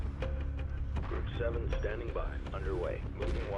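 Spaceship weapons fire in the game Homeworld Remastered, a dense run of booming, crackling shots and blasts layered under continuous voice chatter.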